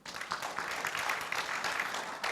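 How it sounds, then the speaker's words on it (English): Keynote summit audience applauding, a dense steady wash of clapping from many hands that carries evenly for a couple of seconds, moderately loud and alone. "One more round of applause, please."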